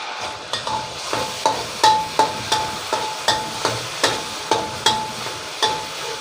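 Pork belly and fermented soybean paste sizzle in a hot pan as a utensil scrapes and knocks against it in steady, evenly spaced stirring strokes.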